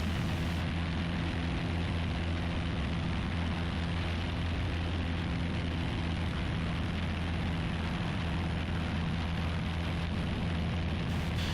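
Steady droning engine of a Piper Warrior light propeller airplane in climbing flight, heard from inside the cabin as a loud, continuous low hum with no talk.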